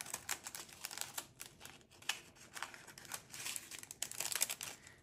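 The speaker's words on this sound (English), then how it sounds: "Let me just cut this real quick." Scissors snip and crinkle through a sheet of material for diamond painting, a quick run of small close crisp cuts and rustles, fairly faint, with no talking.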